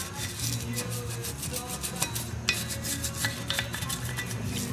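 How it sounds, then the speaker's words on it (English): A plastic brush scrubs a 4Runner brake caliper soaked in brake cleaner, making rapid, rhythmic scratchy strokes that are steady, close and fairly loud throughout with no talking. "I'm going to use a lot of brake cleaner and a plastic brush to clean that up real well."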